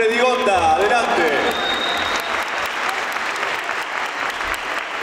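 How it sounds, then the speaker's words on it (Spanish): Audience applause for young performers at a show in a club hall, a dense, sustained wash of clapping that swells in after a voice speaks over the opening moments and then carries on steadily. "Nuestros intérpretes se merecen un fuerte aplauso."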